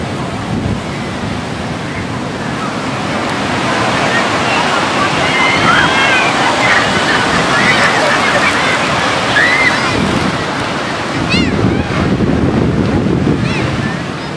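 Surf rolling onto Kuta Beach in Bali under an overcast sky, a continuous wash of breaking waves with gusting wind noise on the microphone, steady and fairly loud throughout.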